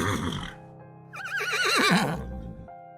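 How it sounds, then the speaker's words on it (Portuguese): A horse whinnies loudly and close by, a long wavering neigh that rises and falls over about a second, with low rumbling and murmuring before and after. "relinchava que nem doido"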